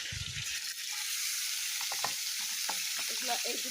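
Fish added to hot oil with tomato and spices, a loud steady frying sizzle with a brief low bump at the start and scattered crackles throughout.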